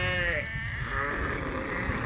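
Sheep in a farmyard on a hot day, long wavering bleats close by, one drawn-out call after another over steady outdoor background noise.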